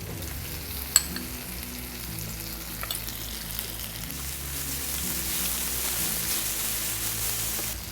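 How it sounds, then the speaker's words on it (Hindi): A steady crackling sizzle of garlic, ginger and chili paste frying in a hot pan, continuous and close, with a couple of faint clicks near the start. "लहसुन अदरक के पेस्ट को 2 मिनट तक करीब मैंने भून लिया है।"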